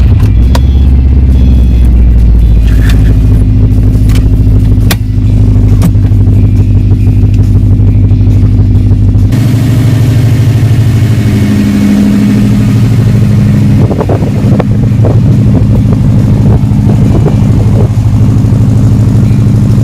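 A Subaru STI engine sits close and loud, throbbing at a rumbling idle before a sharp shift into rising, revving bursts, with a deep, heavy low end throughout and no talk.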